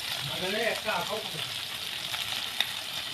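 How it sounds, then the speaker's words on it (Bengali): Fish fries in hot oil in an outdoor kitchen, giving a steady close sizzle and crackle, with a faint voice briefly under it at the start. "মাছ ভাজা হয়ে যাচ্ছে,"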